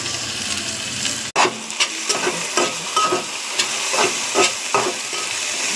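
Onions, curry leaves and mint frying in a pan, a close steady sizzle broken by repeated stirring scrapes, with one sharp knock against the pan early on.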